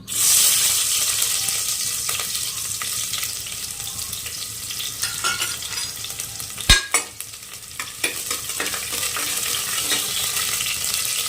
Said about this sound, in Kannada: ಇವಾಗ ಎಣ್ಣೆ ಬಿಸಿಯಾಗಿದೆ ಇವಾಗ ಇದಕ್ಕೆ ಈರುಳ್ಳಿನ ಹಾಕ್ತಾ ಇದ್ದೀನಿ